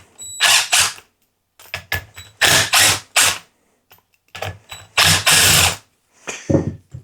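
A T20 star bit undoes the bolts on a sander's pad, with close, loud bursts of ratcheting, clicking mechanism noise. The bursts come in uneven short runs with brief silences between them.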